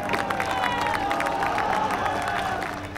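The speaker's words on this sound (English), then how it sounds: "This massive roar and cheering just goes up." A large crowd at the scene of a collapsed apartment building in Pakistan roars and cheers after a rescue, a loud sustained mass of shouting voices and clapping, close and continuous.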